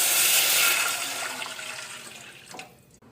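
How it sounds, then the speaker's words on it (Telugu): Water pours onto dry-roasted lentils in a pot while making a sweet protein payasam, a steady close rushing splash that gradually thins and fades toward a brief final clatter. "ఇందులో వాటర్ పోసి కలియపెడదాం"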